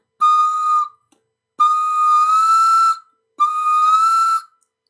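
Pan flute blown hard to reach high notes: three sustained, bright, breathy tones, the last two held longer with a slight upward bend, each separated by silence.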